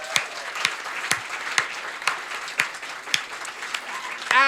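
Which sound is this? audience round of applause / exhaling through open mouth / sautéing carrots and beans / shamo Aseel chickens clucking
audience round of applause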